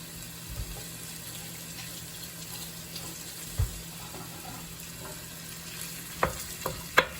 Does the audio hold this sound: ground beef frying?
yes